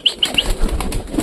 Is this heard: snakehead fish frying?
no